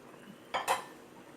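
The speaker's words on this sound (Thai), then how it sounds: "แล้วมาเสิร์ฟใส่จานนะคะ" Boiled chicken feet being served onto a plate, with two quick dish clinks close together, fairly loud against a quiet kitchen background.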